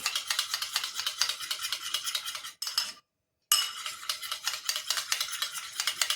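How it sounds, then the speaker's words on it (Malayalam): A utensil stirs and scrapes steadily as aloe vera gel is mixed into a cream in a bowl, with soft clinks against the sides and a brief silent pause midway. "നന്നായിട്ടൊന്ന് മിക്സ് ചെയ്തെടുക്കണം"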